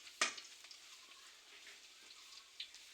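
Onions frying in oil in a home kitchen pan, a soft continuous sizzle with a brief sharp crackle near the start and light stirring clicks, fairly faint and with no talking.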